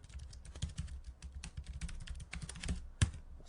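Someone typing on a computer keyboard, with steady, irregular close-up key clicks throughout and one slightly louder tap near the end, no talking.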